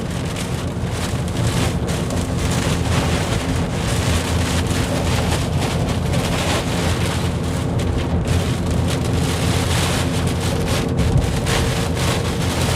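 Heavy rain with strong wind during a squall line, a dense, continuous roar of downpour and buffeting gusts, loud and unbroken throughout.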